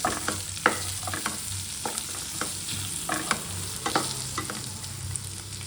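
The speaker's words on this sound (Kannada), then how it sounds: "ಒಂದು 2 ಟೇಬಲ್ ಸ್ಪೂನ್ ಎಳ್ಳು ಮಿಕ್ಸ್ ಮಾಡ್ಕೊಳ್ಳಿ" Sesame seeds are stirred in a frying pan for a capsicum curry, with soft crackling frying and scattered spoon scrapes and clicks nearby.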